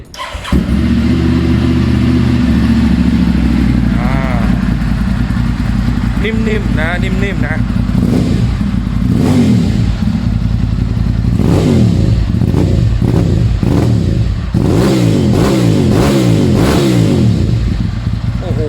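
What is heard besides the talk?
Ducati 796 motorcycle engine revving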